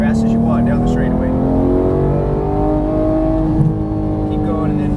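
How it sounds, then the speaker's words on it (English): A Porsche GT3 accelerates hard down a straightaway, its engine note climbing steadily in pitch and staying loud and close while someone talks over it. "Squeeze the throttle as you unwind, fast as you want, down the straightaway."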